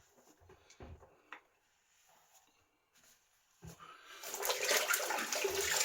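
A shaving brush rinsed under running tap water, with a few soft knocks and splashes first, then a steady close rush of water building over the final seconds.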